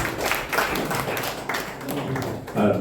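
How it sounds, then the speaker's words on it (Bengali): Audience clapping at a book launch for a poetry collection, a steady patter of many hands in a room, moderately loud and continuous throughout. "আমরা একটা করতালি দিয়ে আমরা"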